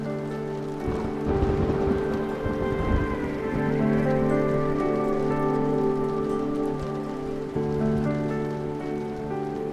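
Steady, dense rain falling and pattering on surfaces, with a continuous wash of drops throughout, fairly loud and close, with no talking.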